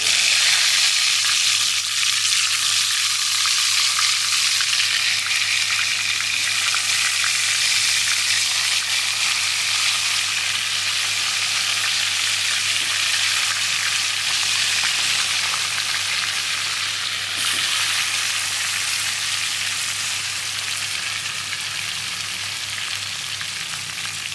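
Whole brinjals frying in hot oil tempered with mustard seeds and fenugreek for a tangy stuffed-brinjal curry: a steady, loud, close sizzle and crackle that holds evenly throughout with no talking.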